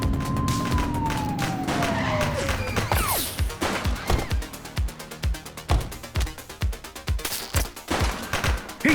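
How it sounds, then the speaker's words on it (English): Rapid gunfire rattles in the police video game The Precinct, with bursts of shots coming fast and close over a wailing siren and engine noise. "He's shooting!"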